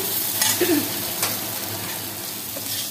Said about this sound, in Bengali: এবার আমি পুরটাকে আরেকটু ভালো করে রান্না করব